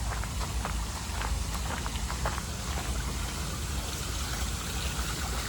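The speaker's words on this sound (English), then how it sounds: "So this is actually man-made waterfall" Pumped water pours down a man-made waterfall among caves and cliffs in Kielce, Poland, making a loud, continuous broadband rush and splash that stays even throughout with no voices.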